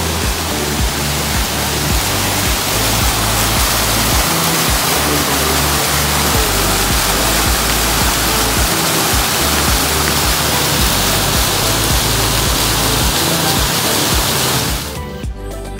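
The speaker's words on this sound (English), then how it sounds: "That's it, we're at the top of the waterfall." Waterfall at France Park in Logansport, Indiana, heard from the top as a loud, close, unbroken rushing roar of falling water that cuts off abruptly at the end.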